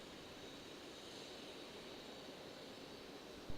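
A CRJ regional jet taxiing at Raleigh-Durham airport gives a steady, distant broadband jet roar with a hissing high end, holding level throughout and ending in a brief bump at the close.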